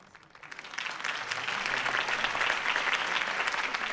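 A political rally crowd in Batman: The Telltale Series breaks into applause that swells from quiet to a steady, dense roar of clapping and sustains at full strength.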